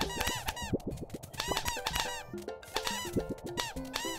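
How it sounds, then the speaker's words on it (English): Video game characters in Dream Daddy squeak rapidly and repeatedly, bright high-pitched chirpy squeaks in quick bursts with short gaps, loud and close. "I like how they squeak."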